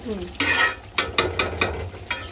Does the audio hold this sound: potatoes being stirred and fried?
yes